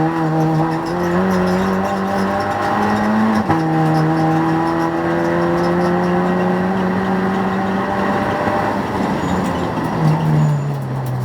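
An Audi TT TFSI race car roars past on the Blyton Park circuit during testing, its strained engine tone sliding down in pitch as it passes, then another pitch drop as the loud engine note recedes near the end.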